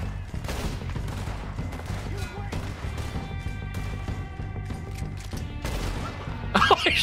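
Gunfire rattles in Red Dead Redemption 2, a dense fusillade of close, sharp shots cracking repeatedly over several seconds, ending in a louder burst of impacts.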